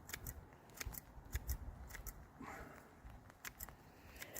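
Scissors snip through the root mass of a pepper plant being trimmed for overwintering, a quick scatter of sharp, close cutting clicks with faint rustling between them.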